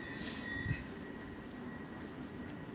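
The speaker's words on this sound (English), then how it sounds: "Yeah, this is my train." A London rail train's wheels squeal faintly and steadily against the track amid a constant rumbling hum of the moving carriage, with a brief thump near the start.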